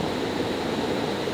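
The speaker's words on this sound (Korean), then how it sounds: "지금 물소리 들리시죠, 여러분?" A forest valley stream keeps up a continuous soft rush of flowing water. It sounds steady and fairly faint, with no voices over it.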